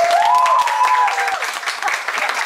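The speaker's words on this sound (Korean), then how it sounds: "박수 주세요" Crowd applause at a wedding with a rush of clapping filling the space, a whistle-like tone rising briefly over it near the start.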